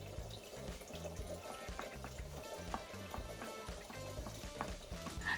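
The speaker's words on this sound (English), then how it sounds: "let us rinse our beef with filtered running water" Steady filtered tap water pours over beef being rinsed, a continuous splashing rush with faint clatter mixed in.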